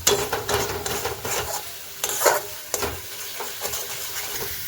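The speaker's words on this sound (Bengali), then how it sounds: "তেল না ছাড়বে ততক্ষণ কষাতে হবে" Masala sautéing in hot oil for a katla fish kalia, with a close, steady sizzle broken by repeated scraping stir strokes of a spatula against the pan.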